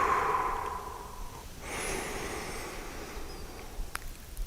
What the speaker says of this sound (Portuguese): Respiração bem lenta e profunda.